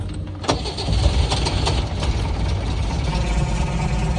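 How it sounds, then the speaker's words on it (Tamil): A 1994 classic Jeep engine cranks briefly, catches and settles into a loud, rough, steady idle that carries on to the end, heard close up. "ஒரு வழியாக வண்டி தொடங்கிட்டு"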